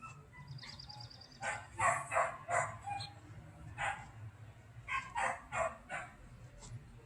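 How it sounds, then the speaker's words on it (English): A neighbour's dog barks in repeated bursts from some distance away, the yaps clustered in short runs with pauses between them, heard against a steady low indoor hum with no talking. "Just let the dog bark, do nothing with it."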